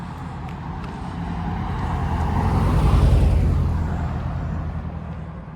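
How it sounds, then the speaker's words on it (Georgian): A Brabus car drives past on a street, its engine and tyre noise swelling from a distant approach to a loud close pass near the middle, then fading away, with no talk. "ვისია ეს ბრაბუსი თუ რა მანქანაა?"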